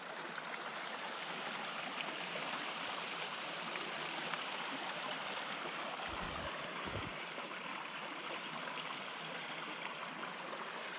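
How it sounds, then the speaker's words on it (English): Running stream water in a snowy winter forest at around -30°C, a steady, continuous rushing and gurgling that stays even throughout with no voices. "Found some running water."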